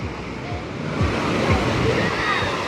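Sea waves break on the beach at Anapa, a loud sloshing wash of surf with repeated swells rolling in close by, no talk over it.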